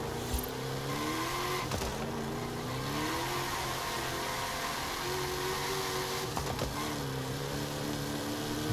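A car launching and accelerating hard down a drag strip in the racing game Forza Horizon 5, with a loud steady engine roar whose pitch climbs through several gear changes and brief shift breaks, heard alone and close.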